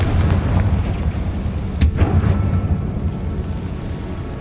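A Confringo spell explodes in the video game Hogwarts Legacy as a single sharp blast over a dense, loud, continuous rumble of combat.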